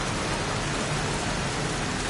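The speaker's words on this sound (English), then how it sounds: "Goddamn rain, soaking wet." A dense, loud rain downpour in the video game Heavy Rain, a constant hiss of water with a low rumbling undertone, steady and unbroken throughout.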